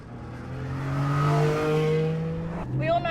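A Porsche 718 Cayman GT4 drives on the road, its engine note rising steadily under acceleration, easing off, then climbing again with a gear change near the end, heard from inside the car.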